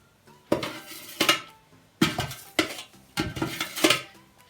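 Pizza dough ingredients mixed in a bowl, with four clattering bursts of a utensil scraping and knocking against the bowl, close and distinct, separated by short pauses.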